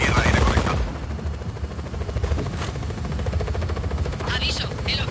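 In the video game Just Cause 4, a helicopter approaches amid gunfire, a steady rotor drone under bursts of rapid shots, loud and continuous, with a voice talking over it.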